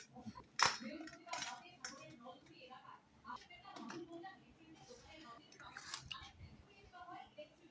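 Rice served onto plates with utensils, intermittent clinks and scrapes of metal against dishes, close by, with quiet talking mixed in.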